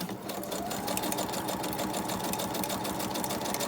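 Sewing machine stitching a zigzag on paper ephemera for journals, a steady fast mechanical whir with a rapid rattling needle rhythm, close and continuous without talk.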